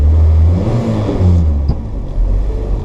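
A classic Mini fitted with a turbocharged Honda VTEC engine, idling with a deep, loud rumble that rises briefly in a short rev before settling back to a lumpy idle, close by and without talk.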